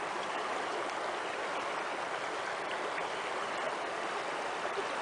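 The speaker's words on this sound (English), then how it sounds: "Here's a real world test. This is, what's this creek called, Nick?" Molar Creek flowing steadily nearby, a dense, even rush of water that holds constant for the whole stretch with no voices over it.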